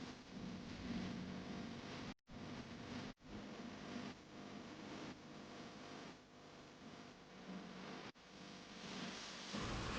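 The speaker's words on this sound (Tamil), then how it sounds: "நாங்கள் மொயர் பாயிண்ட் ரீச் ஆனப்போ பயங்கரமாக மழை பெஞ்சது." Heavy rain pours down at Moir Point in Kodaikanal, a steady, dense hiss of water that fills the scene, with no voices and only a few brief dropouts.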